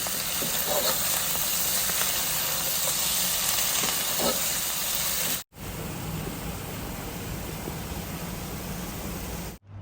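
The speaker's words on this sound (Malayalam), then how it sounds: "കുറച്ച് കറിവേപ്പിലും കൂടി ഇതിൻ്റെ മുകളിൽ ഇട്ട് കൊടുത്തതിന് ശേഷം ബീഫ് നമുക്ക് ഒന്ന് ഇളക്കി കൊടുക്കാം" Beef frying with coconut oil and curry leaves in a pan, a loud, steady hiss and sizzle that cuts out sharply partway through and then resumes at the same level.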